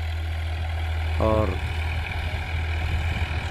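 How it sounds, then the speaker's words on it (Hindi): A 2018 Massey Ferguson 245 DI tractor's diesel engine idles with a steady low rumble throughout, with its note slightly uneven, while someone says a brief word over it. "बस थोड़ी स्लोपी आवाज़ सेट नहीं इसकी, बाकी इंजन बहुत दमदार है।"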